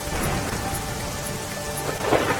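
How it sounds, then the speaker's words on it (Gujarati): Heavy rain pours steadily during an orange-alert monsoon downpour in north Gujarat, a dense, even hiss of water close by that holds through the whole stretch, with a slightly louder surge near the end and no voices. "ઉપરવાસમાં મુશળધાર વરસાદથી"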